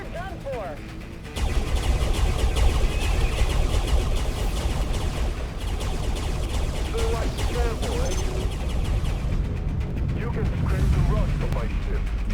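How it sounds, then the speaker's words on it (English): Spaceship weapons fire in the Starpoint Gemini space combat game, a dense, loud barrage of booming shots and rumbling blasts that rises abruptly and continues without pause, with a voice speaking over it. "All weapons fire at will."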